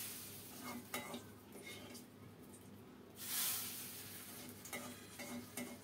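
Ginger paste sizzling in a little hot mustard-oil tempering for khichuri, a steady frying hiss broken by spoon scrapes and clinks against the pan, with one brief louder burst of sizzle midway.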